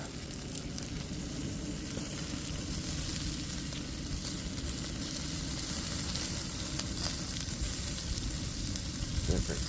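Meat sizzles steadily on a hot BBQ grill while being flipped, a continuous crackling fry with faint scraping and light clatter near the end.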